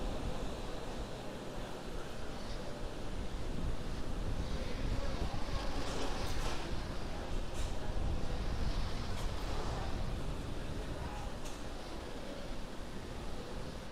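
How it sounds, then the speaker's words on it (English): Falcon 9 rocket's nine Merlin 1D engines roaring at full power in flight, a steady broadband rumble and hiss that holds at constant loudness throughout, with no voices over it. "The 9 Merlin 1D engine is going back to full power."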